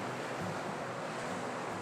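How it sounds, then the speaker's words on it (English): Ocean waves crashing on a shore by a street: a loud, continuous roar of surf blended with wind buffeting the microphone, steady with no breaks and no speech. "The waves are crashing."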